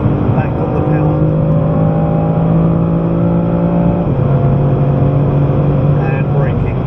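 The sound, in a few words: BMW M3 accelerating on Goodwood hot lap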